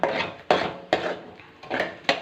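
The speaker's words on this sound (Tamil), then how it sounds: "இப்போது நாம் பிச்சு வச்ச பக்கோடாஸ் எல்லாத்தையும் இதில் போட்டுக்கோங்க. போட்டு நல்லா மிக்ஸ் பண்ணிக்கோங்க." Fried mushroom pakodas are stirred into sauce in a pan, with several sharp spoon-on-pan scrapes and clanks at irregular intervals, close and fairly loud, no talk.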